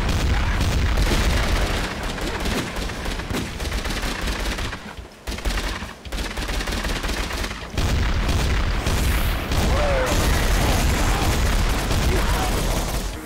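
Rapid automatic gunfire from a zombie-shooting round in Garry's Mod, loud and nearly continuous across the clip with a brief lull in the middle, dense and close.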